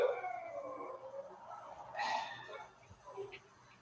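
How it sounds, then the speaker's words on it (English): Several dogs in a home howl together, a wavering, drawn-out chorus with a rising swell in the middle, heard at moderate distance without any talk over it. "sorry, I live with a bunch of dogs."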